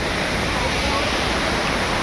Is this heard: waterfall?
yes